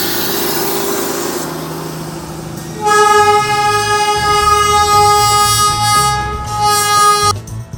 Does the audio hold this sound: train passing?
yes